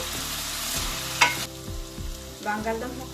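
Potato pieces frying in a pan for aloo curry, a close steady sizzle with spoon stirring and a sharp scrape or two against the vessel, no talking.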